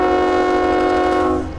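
A loud, steady freight train horn blares up close for over a second over the low rumble of the train climbing an uphill grade, then trails off.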